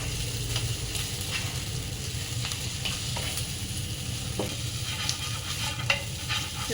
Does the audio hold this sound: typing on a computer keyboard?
no